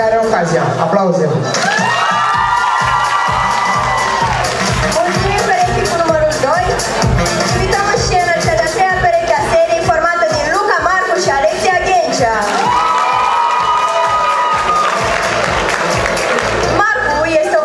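A school freshman ball crowd cheers, whoops and shouts while clapping, the noise swelling loud and dense for most of the stretch, with children's and teenagers' voices mixed through the roar and a strong musical backing underneath.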